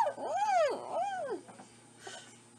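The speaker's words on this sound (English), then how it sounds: "And we gotta get that dog out of here." A dog in the Garfield Snack Time video game gives two drawn-out whining yelps, each rising and falling, fairly faint over a steady game background hum.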